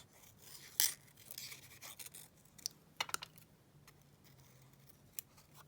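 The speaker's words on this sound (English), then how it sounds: "So let's just cut this one out." Scissors snip through card cut from a 12x12 master board, a few crisp, close cuts and scratchy rasps spaced irregularly over a quiet background.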